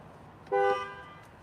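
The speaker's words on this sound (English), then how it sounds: "That's the sound of the horn." A single short honk of a 2021 Land Rover Discovery R-Dynamic S horn, a brassy blast lasting a fraction of a second, close by against quiet background.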